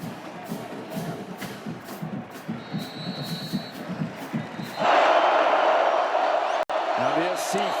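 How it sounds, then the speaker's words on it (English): USC fans in a college football stadium during a game against LSU roar after a touchdown, a loud broadband crowd swell rising sharply over earlier commentary-like chatter and sustaining to the end. "Now the SC faithful making some noise"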